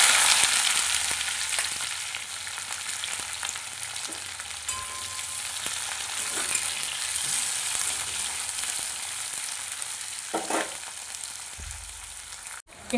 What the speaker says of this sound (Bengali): দিয়ে পেঁয়াজটা ভালোভাবে ভেজে নেব লাল লাল করে।